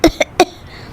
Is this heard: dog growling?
no